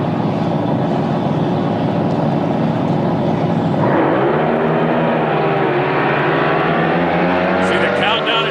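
Top alcohol drag boat engines roar loudly at a race, a dense sustained blare that shifts in pitch midway as the boats pass, with an announcer talking over it.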